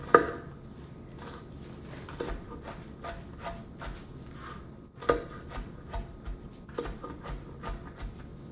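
A knife chopping onions on a cutting board for a cold creamy corn salad, a string of sharp, uneven taps spaced through the clip, some stronger strikes standing out, in a quiet room.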